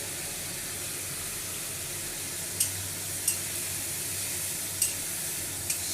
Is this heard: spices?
yes